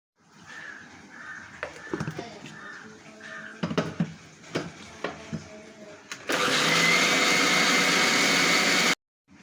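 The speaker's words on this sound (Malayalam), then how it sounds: "ഞാനെടുത്തിട്ട് ഒരു നുള്ളി ജീരകം ഇടണം, പിന്നെ 2 പച്ചമുളക്, ഇച്ചിരി വെളുത്തുള്ളി, 2 വെളുത്തുള്ളി, അത് നമ്മൾ മിക്സിയിലിട്ടൊന്ന് അടിച്ചെടുക്കണം" Kitchen clatter and a few sharp knocks come first, then a mixer grinder loaded with coconut, cumin, green chillies and garlic starts up, whirring loud and steady for a few seconds before cutting off abruptly.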